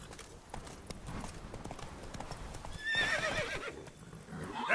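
Roach, a horse in Witcher 3, gallops with a rapid, steady clip-clop of hooves, then lets out a loud, shrill neigh in the middle, with more hoofbeats and a second whinny near the end.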